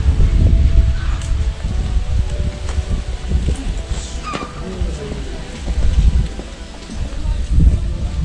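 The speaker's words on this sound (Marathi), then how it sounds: "खूप जोरामध्ये वारा सुरू झाला" Strong wind gusting across a mountain trek toward Kalavantin Durg fort, a heavy low roaring buffet over the microphone with rustling and scattered knocks, loud and continuous throughout.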